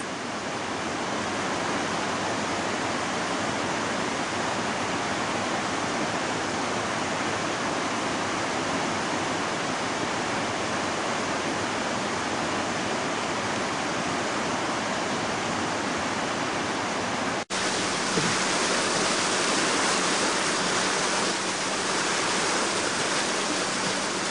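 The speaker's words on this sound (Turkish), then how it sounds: "Aksut Deresi gördüğünüz gibi oldukça çoğalmış durumda" A flooded Akse creek rushes beneath a large road bridge, a loud, steady roar of churning water that goes on without a break for the whole stretch, close and unmasked by voices.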